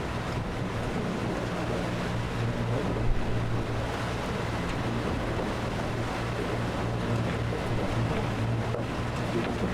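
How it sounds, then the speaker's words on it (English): Ocean waves wash against a sailing boat near rocks in a steady, dense rush of water and wind, loud and constant throughout with no voices. "the waves aren't pushing us like crazy like they are right now"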